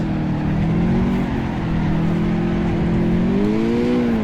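A Toyota GT86 engine accelerating through a figure-eight drift run, a steady, loud, close engine drone whose pitch wavers and climbs toward the end.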